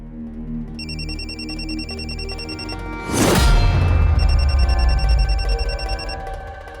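A phone rings with bursts of electronic ringtone, interrupted midway by a loud crash or whoosh, then the ringing resumes over a low rumble.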